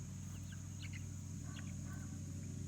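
Chickens in a pasture pen cluck and chirp faintly in a few short bursts, nearly buried under a steady low hum and background noise.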